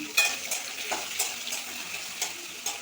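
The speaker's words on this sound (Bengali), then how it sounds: "অল্প তেলে রান্না করবো, বেশিটা তেল দিলাম না" Mutton marinated with salt, turmeric and raw oil fries in a little oil, giving a soft close sizzle broken by several light utensil stir strokes.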